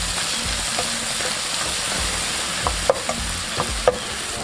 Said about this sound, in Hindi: तो अच्छी तरह से मिक्स कर लेंगे और 1 से 2 मिनट के लिए इसको ऐसे ही पकाएंगे।